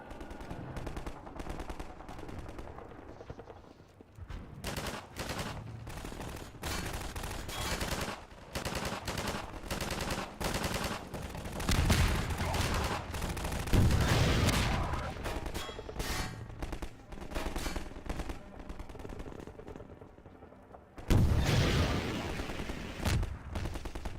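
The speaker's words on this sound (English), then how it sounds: "What are they shooting at?" Heavy, continuous gunfire from a shooting game with Half-Life-style combat, with dense bursts of automatic fire and explosive shots, loud and sustained throughout, rising in intensity with no speech.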